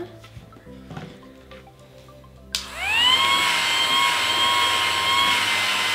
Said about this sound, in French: On active les moteurs.